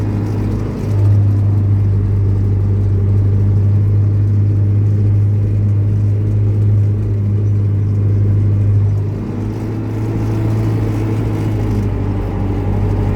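A tractor pulls a rotary harrow across a field of winter wheat, its engine a loud, steady close rumble with a slight dip near the end and no voices.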